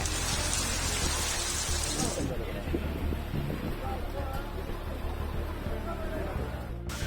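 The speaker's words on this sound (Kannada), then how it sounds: "ಹುಯ್ಯೋ ಅಂತ ಮಳೆ ಸುರಿಯುತ್ತಿದ್ದು" Heavy monsoon rain pours over the Malnad hills around Chikkamagaluru, Karnataka. It makes a dense, steady, loud hiss that stays unbroken for about seven seconds.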